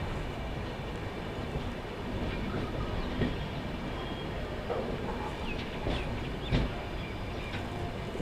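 Two passenger trains crossing near Nizamuddin, New Delhi, one of them the New Delhi–Indore superfast express: a steady, loud rolling rumble with clattering wheels and a few sharp clanks and thumps, with no voices.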